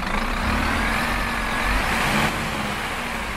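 A Scania CityWide bus with a K270 engine in the OMSI 2 driving simulator revs with a steady, loud diesel drone and a faint rising whine, held continuously without talk.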